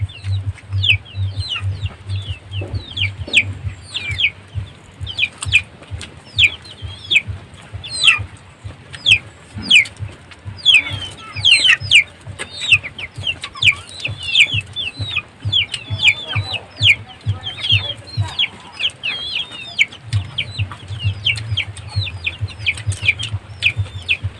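Chickens cluck and chirp continuously in quick irregular bursts, with a steady low hum running underneath.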